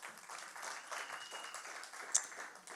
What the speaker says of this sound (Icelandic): Hvernig var að gefa þessu myndalega manni gott klapp?